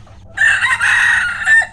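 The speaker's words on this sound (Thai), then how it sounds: "ก็จะมีอยู่สามตัวที่คุมฝูงนี้อยู่ครับ ฝูงไก่ครับผม" A rooster crows once, loud and close, in a flock of domestic, bantam and jungle fowl chickens on a farm, with a faint low rumble of background noise behind it.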